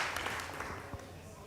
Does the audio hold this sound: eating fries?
no